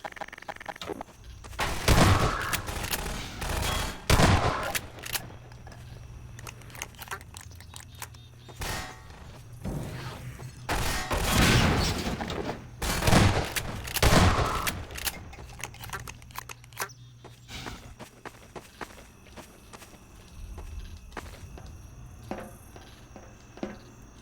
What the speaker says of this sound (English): by this time I decide to shoot the barrels, he's run away from them.